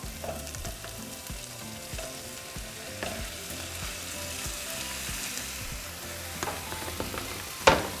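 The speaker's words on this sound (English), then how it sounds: "So now we're just going to brown our meat." Beef browning with jalapeño or serrano chiles in a frying pan, a steady close sizzle with occasional stirring scrapes and a sharp clack near the end.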